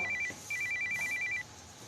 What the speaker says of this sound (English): My wife is calling, so I should probably answer that.